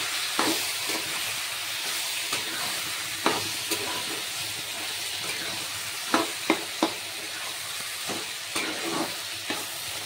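Bottle gourd frying in a pan with onions, giving a steady sizzling hiss with sharp scraping clicks of a spoon stirring now and then, heard close and alone.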